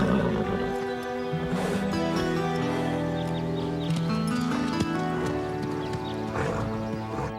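Horse hooves clip-clop in an animated series set at a riding boarding school, a rhythmic trotting beat under a bed of music with a whinny mixed in, fairly loud and busy throughout.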